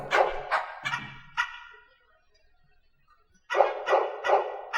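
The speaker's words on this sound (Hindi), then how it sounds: "देखा कुत्ते भौंक रहे" Dogs barking in a series of loud, close barks: a quick run of several barks, a pause of near silence, then another run of barks, with no talking.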